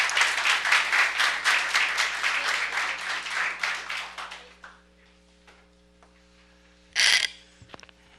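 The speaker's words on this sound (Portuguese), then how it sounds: "Salve de palmas, gente." An audience claps for Solange, municipal education secretary of Osasco, at a public hearing: loud rhythmic applause for about four seconds that fades to near silence, followed by a short sharp burst of noise and a few small knocks.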